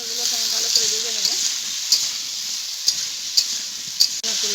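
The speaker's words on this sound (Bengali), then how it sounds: "আলুগুলোকে আমি ভালো করে ভেজে নেব।" Potatoes fry in a pan with a bright, continuous sizzle, broken by sharp clicks and scrapes from stirring at irregular intervals, while a faint voice murmurs underneath.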